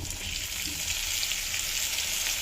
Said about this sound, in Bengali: এগুলো একটু লাল লাল হয়ে ভাজা হোক।